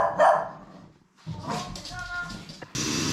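A small dog yaps in short bursts indoors, several sharp barks at the start and more agitated sounds later, with people talking nearby.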